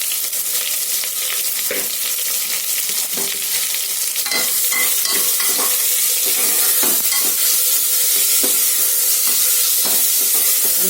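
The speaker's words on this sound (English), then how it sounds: "we'll fry the onions till it is translucent to slightly golden brown" Onions frying in a pan for ghee rice, a steady loud sizzle and hiss with occasional stirring scrapes, continuous throughout with no voices.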